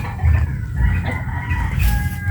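Farmyard chickens raised from chicks, hens kept for eggs, cluck nearby in a low, continuous murmur, with a few brief higher calls rising above it and no talking.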